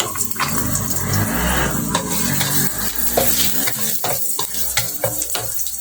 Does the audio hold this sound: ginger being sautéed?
yes